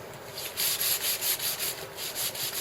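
Steady rhythmic sanding strokes on a wooden walking stick, a raspy back-and-forth rub repeating roughly every quarter second, close and continuous.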